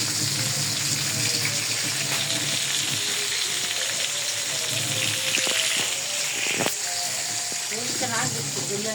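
Breaded chicken panee frying in a home pan gives a steady, loud sizzle and crackle that fills the whole stretch, with a voice talking briefly over it.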